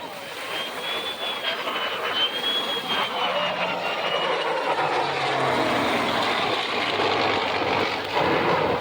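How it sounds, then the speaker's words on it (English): A P-51 propeller plane and an F-35 jet fly together in a heritage flight, giving a steady, loud engine roar with a drifting whine that holds through the whole stretch. "The jet's got to throttle back, and the prop plane is going to full bore."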